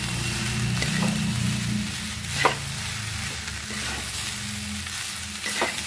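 Fried rice sizzles steadily in a hot pan while a spatula stirs and scrapes it in occasional sharp strokes, close and continuous with no talking.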